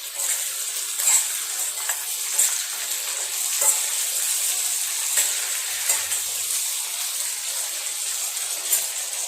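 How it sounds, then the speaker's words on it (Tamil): Onion tomato chutney sautéing in a pan, a steady close hiss of sizzling with occasional soft scraping stirs, continuous throughout with no talking. "நல்லா இதை வதக்கணும்."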